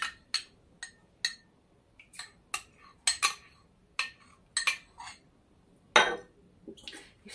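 A spoon clinks and scrapes against a bowl in irregular bursts while a green onion and egg filling is mixed with sour cream, fairly close and moderately loud.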